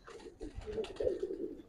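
Giribaz pigeons in Old Dhaka give low, throaty coos, one swelling warble rising near and clear after a few softer notes.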